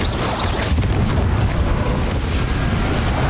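Fiery Confringo spell blasts burst in the wizarding action game Hogwarts Legacy: dense, loud booming and crackling explosions over a constant deep roar, with no break throughout.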